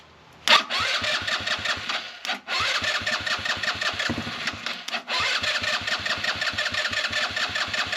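A dirt buggy engine with a badly adjusted carburettor air mixture coughs into life roughly, stumbles twice, and then settles into a loud, choppy, uneven idle heard up close.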